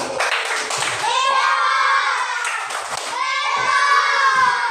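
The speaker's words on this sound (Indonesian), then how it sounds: "Ya, tepuk tangan." Children clap together in a classroom after a group presentation, a busy burst of hand claps mixed with chattering young voices throughout.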